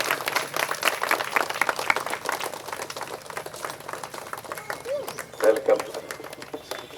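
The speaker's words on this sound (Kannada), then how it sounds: "ಶಾಸಕರು ಭರತ್ ರೆಡ್ಡಿ ಅವರಿಗೆ ಒಂದ್ಸಾರಿ ಜೋರಾಗಿ ಚಪ್ಪಾಳೆ ಮೂಲಕ ಸ್ವಾಗತ ಸರ್" A crowd at an Ayyappa devotional gathering in Ballari claps to welcome local MLA Bharat Reddy, a dense patter of applause that rises and fades while someone speaks over it nearby.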